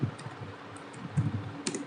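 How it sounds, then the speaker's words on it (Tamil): Soft keystrokes on a computer keyboard while a bill number is entered, a few scattered quiet clicks in an otherwise hushed room. "பில் நம்பர் டைப் பண்ணிக்கிறேன்"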